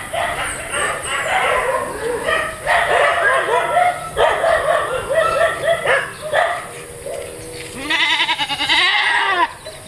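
A goat bleats repeatedly in a village setting, loud and close, the wavering cries mixed with barking dogs and other farm animals, while people talk nearby.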